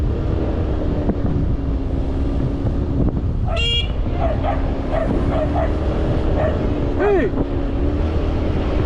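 A dog barks a few times at a distance over a steady hum of traffic and engine noise, with a brief spoken word, at an uphill cross-country tune-up race.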